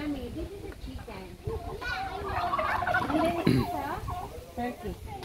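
Turkeys gobbling at a farm, warbling calls rising over chatter from children and adults nearby, loudest in the middle of the stretch.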